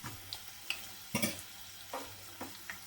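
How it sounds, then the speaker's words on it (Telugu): Dried red chillies and spices fry in oil for chitrannam, giving a faint, quiet sizzle broken by a few sparse spoon scrapes and clinks against the pan. "ఆ తర్వాత ఎండుమిర్చి కూడా వేసుకొని కలుపుకోవాలి. ఇది కాస్త ఆయిల్లో కాలిన తర్వాత"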